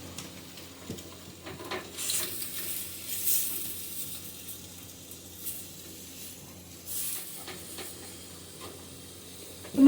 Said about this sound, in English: let the grease from the Spam start to come out and let that Spam begin to brown